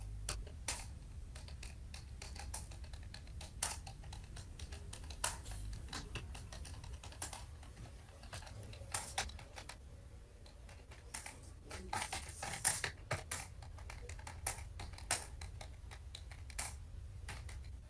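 Steady typing on a computer keyboard, with bursts of close, crisp key clicks and occasional louder spacebar or enter thumps running throughout, with no talking.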